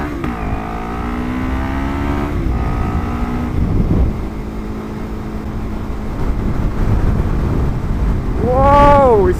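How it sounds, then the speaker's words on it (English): Heavy wind buffets the microphone of a rider on an LXR380 motorcycle, a loud broad rush running throughout, with engine tones rising and falling underneath and a sharp revving swell near the end. "You see what I mean about the wind?"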